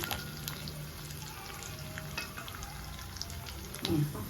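Gentle, steady sizzling of garlic frying in oil for tempering, a soft continuous crackle with a brief louder clatter near the end.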